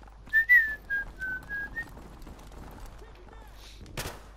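A series of short, high whistle tones from a prop in the game Prop Of Duty, several in quick succession, mixed with chatter and a burst of gunfire near the end.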